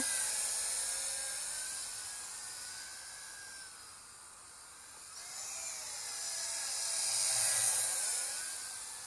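A X6 Tarantula quadcopter drone flies nearby with a high, buzzing whine. The sound swells and fades as it moves, dipping midway and peaking again near the end, with no talking.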